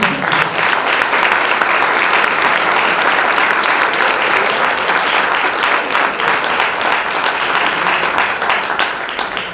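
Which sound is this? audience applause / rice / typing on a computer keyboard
audience applause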